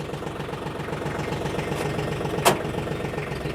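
A TYM F25R 25-horsepower compact tractor runs with a steady, even diesel chug at low revs, close by and continuous, with one brief sharp click partway through.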